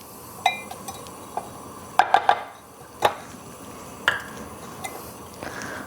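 A utensil clinks and scrapes against a pot as flour is stirred into gluten-free chicken soup, giving scattered metallic taps and a quick triple clink amid faint liquid sounds, close and clear with no talking.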